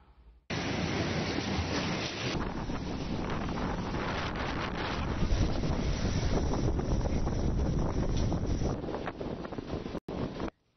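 Strong gusts from Cyclone Yaas batter the Odisha coast on the Bay of Bengal, a steady loud roar of wind buffeting the microphone for about ten seconds before a sudden cut.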